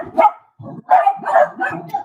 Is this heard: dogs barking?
yes